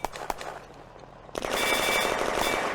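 Gunfire in the WWII game Firefight Ost Front: a few sharp shots, then a sudden burst of rapid machine-gun fire that keeps rattling, loud and fairly close.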